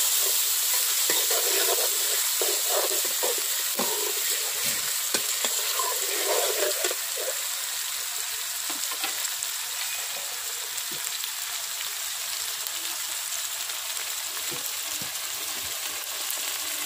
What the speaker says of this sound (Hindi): अब इसको हल्का सा भूनेंगे ताकि इसका जो है कच्चापन रस ख़त्म हो जाए